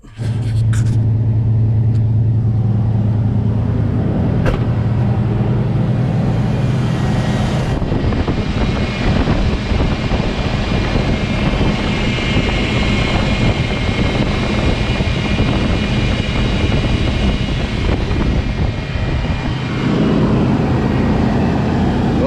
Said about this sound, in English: I revved it up a little bit to give it more pressure